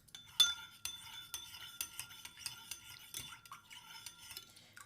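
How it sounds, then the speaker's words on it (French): A spoon stirs a thick honey mixture in a small dish, giving a quiet run of repeated metallic clinks and scrapes at an uneven rhythm, close and without talk. "Vous le mélangez très bien pour que le mélange soit bien épais."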